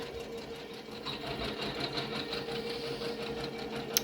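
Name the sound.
embroidery machine stitching out fringed fuzzy font letters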